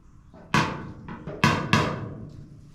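A body hammer taps out dents in the steel front fender of a 1941 Chevy truck: a few sharp, close metallic strikes in uneven rhythm, the last two close together, with no talk.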